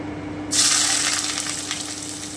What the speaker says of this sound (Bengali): এবারে আমি এই তেলে পেঁয়াজটা ভেজে নিচ্ছি